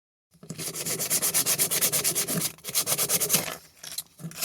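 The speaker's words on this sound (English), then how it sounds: "Alright guys, I've been sanding on it" Rhythmic back-and-forth hand sanding on a hand-carved wooden spoon, close and even strokes in quick succession that slow and thin out toward the end, with no talking.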